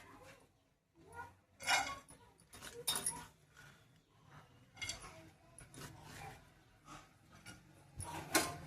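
Coconut pieces pounded by hand for a village-style drumstick curry, heard as irregular knocks and gritty scraping strikes at uneven intervals, fairly faint and close, with no talking.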